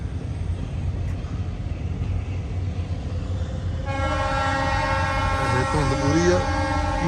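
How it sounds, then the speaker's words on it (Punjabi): A train rumbles past close by, then its horn blares loudly and holds for several seconds over the ongoing rolling clatter. "ਰੇਲ ਗੱਡੀ"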